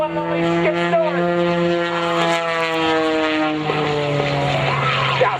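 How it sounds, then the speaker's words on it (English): Skip Stewart's aerobatic propeller airplane roars steadily through its display at the 2011 Battle Creek Airshow, loud and close, its engine tone holding and shifting in pitch with faint crowd ambience beneath. "And now he lets that airplane recover in a vertical dive."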